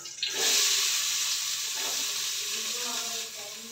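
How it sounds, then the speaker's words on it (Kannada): Sliced onions hit hot oil for egg bhurji, setting off a sudden, loud, steady sizzle that hisses close by and softens slightly toward the end. "ಎಣ್ಣೆ ಕಾದ ನಂತರ ನಾನು ಮೊದಲಿಗೆ ಇವಾಗ ಈರುಳ್ಳಿನ ಹಾಕೊಳ್ತೀನಿ"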